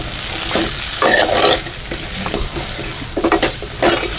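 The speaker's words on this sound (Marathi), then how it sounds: "मस्तपैकी फ्लावर परतून घेऊ" Cauliflower sizzles in a hot pan with oil and spices while a spatula stirs and scrapes it in bursts, fairly loud and close, with no talking.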